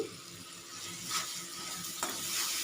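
Fish kachori filling sautés in a pan with a quiet, continuous sizzle and a couple of soft stirring scrapes, with no talking.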